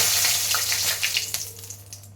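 Two dried red chillies hit hot oil in a pan for a Bengali raw banana and potato curry, giving a bright, close sizzle that crackles loudly at first and then settles into a softer, uneven fizz.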